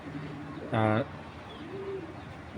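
Tournament pigeons of an old Giribaz breed, one short throaty coo up close, followed by a softer call against quiet background.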